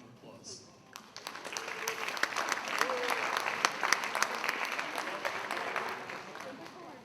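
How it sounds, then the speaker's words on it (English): An audience applauds graduating seniors at a school career and technical education awards ceremony, the clapping swelling from a thin start into steady, moderately distant applause before easing off. "You guys deserve a round of applause."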